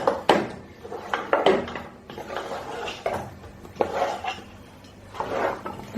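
Nkwobi being stirred in a pot, with repeated scraping and knocking of a spoon against the pot in uneven bursts, close and moderately loud, no talk.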